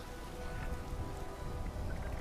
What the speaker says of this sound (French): Mets-toi à l'abri de la pluie.